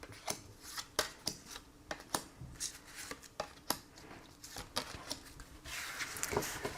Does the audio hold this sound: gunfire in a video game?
no